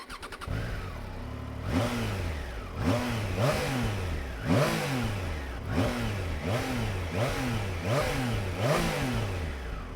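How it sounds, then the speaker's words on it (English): A 2022 Triumph Tiger Sport 660 with a 660cc three-cylinder engine revs repeatedly, its exhaust note rising sharply and falling back about eight times in a steady rhythm, close and loud with no talk. "सबसे पहले exhaust note सुन लीजिए"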